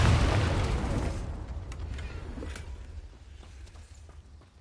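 A Confringo spell blast in the video game Hogwarts Legacy hits with a loud, booming burst at the start, then its rumble decays gradually over several seconds, with a few faint clicks in the fading tail.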